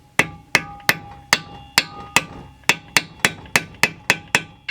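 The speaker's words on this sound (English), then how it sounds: "And you start tapping." A hammer taps a 16mm deep socket to seat a seal on a 372XP clone chainsaw: about thirteen sharp metallic strikes in a steady, even rhythm, close and clear.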